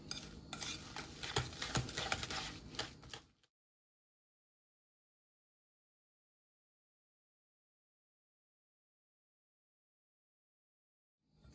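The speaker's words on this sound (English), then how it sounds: "I'm going to use a whisk to whisk my potato" A whisk beats mashed potatoes in a pot, a fast, close scraping and stirring for about three seconds, then stops, leaving silence.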